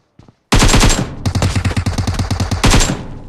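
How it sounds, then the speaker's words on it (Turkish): Automatic gunfire in the mobile battle royale game PUBG Mobile, loud close bursts of rapid rhythmic shots with a brief pause between volleys, no talking. "Bak hala orada birileri atış ediyor."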